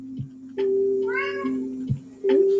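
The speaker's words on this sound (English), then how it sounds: "Sorry, that's the cat." A house cat meows in a drawn-out, rising-and-falling cry near the middle, set against a steady low hum and a few short bumps, with nobody speaking.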